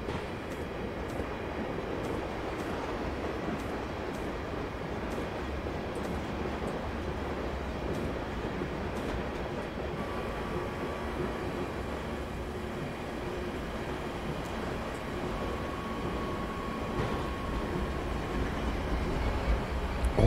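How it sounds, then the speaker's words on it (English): Freight train in the railway simulator Train Sim 2019 on the Trent Valley line rumbling past steadily, with low rolling noise and a run of rhythmic wheel clicks over the first half, no talk. "Oh, it does sound nice. You get a freight train."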